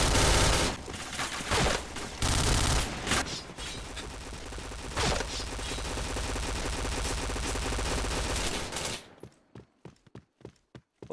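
Gunfire in a first-person shooter video game, loud dense bursts of rapid shots and sustained automatic fire close up, ending in a string of separate single shots spaced at a steady rhythm.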